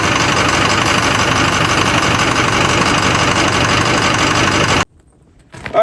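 An abandoned 6.0 Powerstroke diesel truck engine with a ZF6 transmission idles in a garage, a loud steady clattering rumble that runs unbroken for nearly five seconds before cutting abruptly to near silence.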